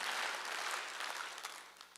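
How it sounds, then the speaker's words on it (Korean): A church congregation at a Wednesday worship service claps together in a dense, continuous burst of many hands, fairly loud at first and fading slightly over two seconds. "박수를 치라."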